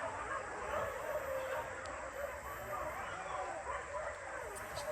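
Dogs on a hunt yip and whimper in continuous, wavering cries, heard somewhat distant through steady broadband noise, with voices faintly mixed in.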